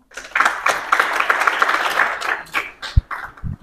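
An audience at a school International Women's Day event applauds, a dense patter of clapping that swells and then thins out with a few scattered claps.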